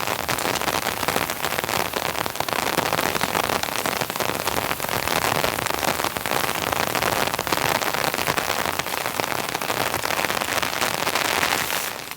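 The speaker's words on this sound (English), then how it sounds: "Get out of this rain." Steady, dense rain falls for the whole stretch at a muddy winter tent campsite, a constant broadband hiss with scattered crackling drops hitting a nearby surface.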